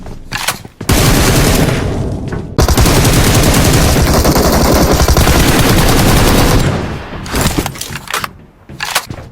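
Automatic gunfire from the mobile game PUBG played on an iPhone XR: loud, rapid bursts of shots that stop and start, with one long sustained volley in the middle.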